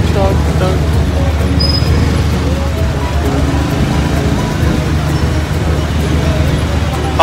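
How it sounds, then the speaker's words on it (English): Dense street traffic in Pakistan, heard from a moving motorcycle, with a steady rumble of engines, buses and cars close by, a brief horn-like tone and constant road noise throughout. "Traffic."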